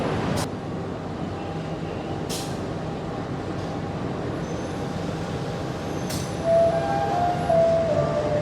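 Menoreh passenger train from Semarang Tawang passing by, a continuous rumble of wheels and carriages with a few sharp brief squeals and a rise in loudness near the end.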